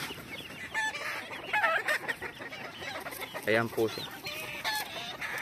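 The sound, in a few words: blue face hatch gamefowl chicken clucking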